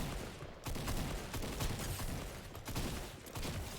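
Gunfire in the Fortnite video game during a match, dense repeated shots and bursts that keep up throughout at a steady, fairly loud level with no talking.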